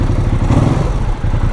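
A Ducati motorcycle engine rumbles at close range, a loud low pulsing throb with a light clattering texture, steady for a moment with no voices.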